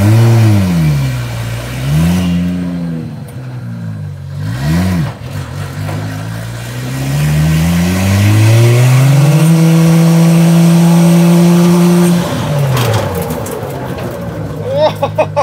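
A 2JZ-swapped Dodge Charger with new Wilwood brakes revs, then accelerates hard with a rising engine whine that holds a steady high note before dropping off abruptly under hard braking.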